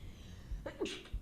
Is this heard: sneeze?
yes